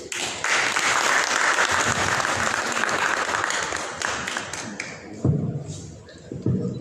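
An audience at a football federation press conference in the Comoros bursts into loud, dense applause that holds for several seconds, then thins into scattered claps and thumps.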